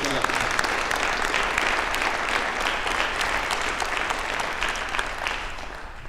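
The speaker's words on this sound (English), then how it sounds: "So let's give them a round of applause for their participation." An inauguration audience applauds a participating school group, a dense, steady wash of many hands clapping that holds loud for about six seconds and eases slightly near the end.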